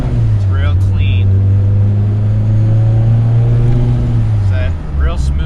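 A car engine tuned for E85 fuel and not yet tuned for boost drones steadily at a low, smooth idle-like hum close by, with someone talking over it.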